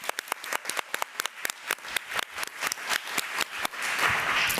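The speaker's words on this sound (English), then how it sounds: "a round of applause." An audience at a school board committee meeting claps for a first grade elementary school teacher, a few dozen hands giving brisk, uneven claps that swell into a fuller patter near the end, with no talking over it.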